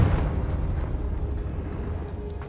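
A Confringo fire spell bursts in Hogwarts Legacy, a loud, sustained rumbling explosion with heavy low-end roar that fills the whole moment and slowly fades without dying out.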